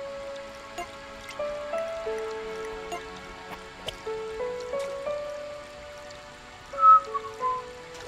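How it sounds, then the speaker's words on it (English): Soft patter of rain in the Ultimate Angler StreetPass game, light drips and trickling under a gentle chiming melody, steady and faint with a slightly louder swell near the end. "oh, it's raining!"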